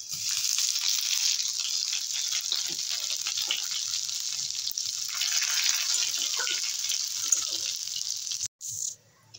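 Bay leaf, nigella seeds and a little ginger sizzle steadily in hot oil, a bright continuous crackle that holds for several seconds before a brief break near the end.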